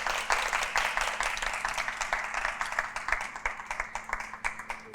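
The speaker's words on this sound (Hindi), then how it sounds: "तो जब तक तो आप लोग अपने लिए तालियां बजाएं।" Studio audience on a reality game show claps for themselves, rhythmic rounded claps that grow more regular and pulse-like toward the end, over a low steady hum.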